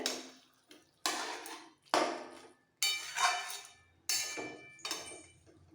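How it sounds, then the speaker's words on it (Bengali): Fish head and cabbage curry being stirred in a pan, heard as a series of about seven sharp scraping and clinking strokes at a steady rhythm, each decaying quickly, close and fairly loud with no talk. "এরকম অল্প করেই জল দিতে হবে আর বারবার ওপর নিচ করে নাড়াচাড়া দিতে হবে"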